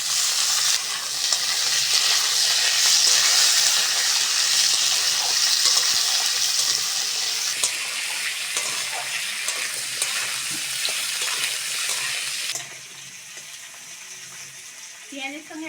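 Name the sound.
potatoes frying with onion in a pan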